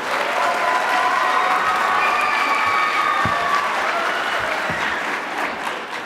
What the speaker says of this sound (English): he deserves a round of applause, and so do all the folk behind here.